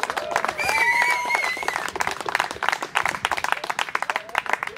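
Outdoor crowd applause at a rally kickoff in Berlin's Hasenheide park, with dense clapping and some whistles and cheers rising over the gathering, continuing steadily for several seconds.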